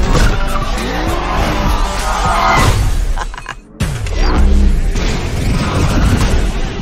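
A car skids hard as the e-brake is yanked, loud and close, with squealing tyres, roaring engine and a crash-like burst amid dense action noise, a brief dropout near the middle, then the chaos resumes.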